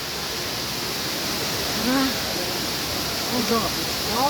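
Cambugahay Falls on Siquijor island: steady, broad rushing of falling water fills the whole clip, while voices speak and exclaim over it.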